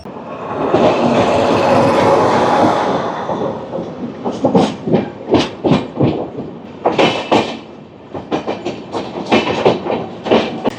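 Rajdhani Express pulling into Dhanbad Junction station, a steady rolling rumble giving way to a run of loud, close rhythmic wheel clacks over rail joints, with no voices.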